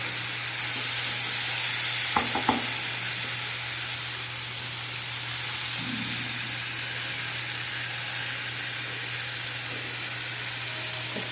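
A pan of tomato, tamarind and coriander sizzles steadily and close, its hissing fry broken by a few brief knocks of a spoon stirring the mixture.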